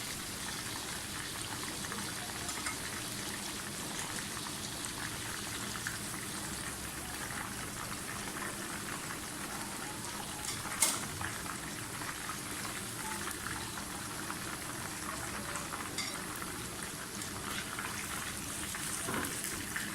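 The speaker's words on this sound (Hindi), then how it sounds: "चिकन हमारा अच्छी तरह से फ्राई हो गया।" Crispy chicken pieces frying in ghee give off a steady, even hiss of fine bubbling and crackle, with one sharp pop midway. No one speaks.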